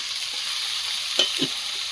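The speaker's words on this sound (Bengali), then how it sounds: "কড়াইতে তেল দিয়ে দেব এবারে কুলপি শাক আলুর তরকারিটা রান্না করে নিয়ে ভাত খাবো ঠিক আছে আলুটা আগে ভাজা হতে দেবো" Potatoes frying in oil in a wok for a curry, a steady close sizzle with a couple of brief clinks or stirring knocks near the end, no talking.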